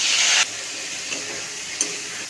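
Bay leaf and long-sliced potatoes drop into hot oil in a pan, giving a loud burst of sizzling at first that settles into a steady, softer frying hiss with a couple of faint clicks, no voices.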